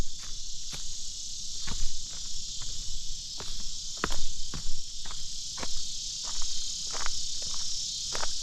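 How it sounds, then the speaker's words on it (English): A dense, continuous high chorus of crickets and other insects fills a prairie at twilight, steady and loud, with faint scattered ticks and rustles underneath and no voices. "listen to those noisy insects. Making such a ruckus."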